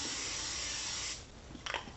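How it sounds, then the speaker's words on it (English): A steady aerosol hiss of cooking spray into a pan for about a second, then stops, followed by a faint clatter nearby. "Spray the pan with some cooking spray."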